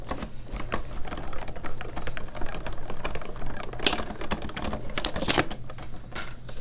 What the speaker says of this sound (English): we're gonna get our machine one more time for this card, and we're gonna run this through.